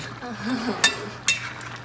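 A lid is set on a cooking pot of simmering chicken and noodles, making two light metallic clinks a moment apart, close by, while a person talks over the quiet kitchen.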